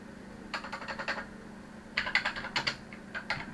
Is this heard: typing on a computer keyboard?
yes